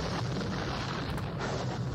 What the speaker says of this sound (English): Get some artillery on those dragoons.